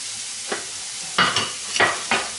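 Onion frying in a pan for creamy chanterelle sauce: a steady low sizzle under several sharp scraping stir strokes, the loudest two pairs late in the clip, with no talking.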